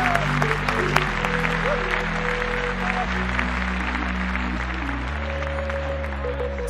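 Audience applause greets a singer's entrance on a television show, with steady crowd clapping heard under loud sustained music with shifting bass tones, moderately close and continuous.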